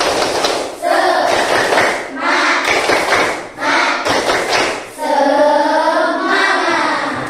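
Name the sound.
children doing a rhythmic spirit clap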